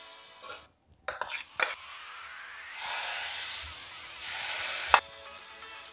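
Ground garlic chutney paste hits hot oil in a kadai, opening a steady, fairly loud sizzle after a few quiet clatters, with a sharp pop near the end.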